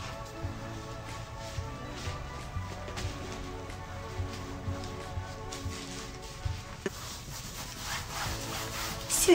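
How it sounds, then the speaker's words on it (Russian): A bar of soap rubbed over wet wool felt makes a steady, close scrubbing and rasping sound, repeated in even back-and-forth strokes at moderate volume with no talking. "Просто беру мылом, промыливаю."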